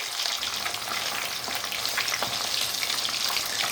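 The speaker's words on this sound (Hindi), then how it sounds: "हाई फ्लेम पे ही हम इसे फ्राई करेंगे।" Fish fries in hot oil over a high flame for a Bihari-style recipe, giving a loud, steady, dense sizzle and crackle throughout with no voices.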